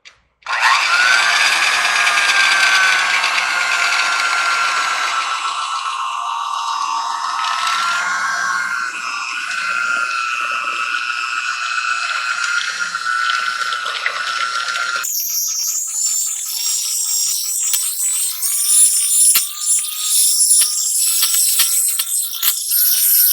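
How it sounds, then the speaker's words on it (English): A handheld electric mixer whirring through cream cheese pie filling, a loud continuous motor drone close up that shifts to a higher pitch partway through. "Then we'll grab our trusty handheld mixer and start to put this together."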